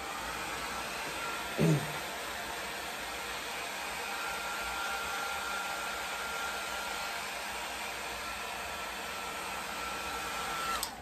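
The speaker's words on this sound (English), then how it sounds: "You don't want to keep that blow dryer in just one spot." Blow dryer running on hair while twisting locs with a sponge, a loud steady close whoosh of air that continues for the whole stretch, with a brief knock partway through.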